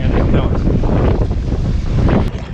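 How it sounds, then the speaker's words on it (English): Wind buffets the microphone in rough, continuous gusts, a loud low rumble that swells and eases over a few seconds. "Looks like the wind died down a little bit, but the gusts keep coming in."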